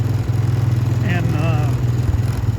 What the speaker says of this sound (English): I just take it to neutral. And it's kind of idling okay.